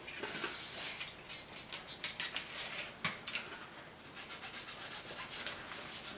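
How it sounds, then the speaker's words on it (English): A toothbrush scrubs the front hub parts of a 2008 Chevy Colorado 4X4 clean, giving close, rapid, rhythmic bristle rubbing in short strokes that grow quicker and denser toward the end. "Got my toothbrush out."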